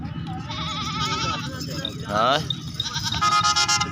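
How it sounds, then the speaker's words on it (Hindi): A goat kid at a livestock market gives one loud, wavering bleat partway through amid background market noise, while people nearby talk. "अच्छा ऐसे बकरी का बच्चा है?"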